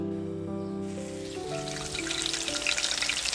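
A potato croquette coated in flour, egg and breadcrumbs drops into hot oil, and a soft crackling sizzle builds and grows busier over a few seconds beneath sustained background music.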